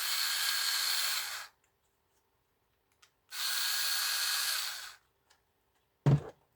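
Power screwdriver driving screws into a Heltec V3 mesh node case, two steady high-pitched whirring bursts of about a second and a half each, separated by silence and followed by a short sharp knock.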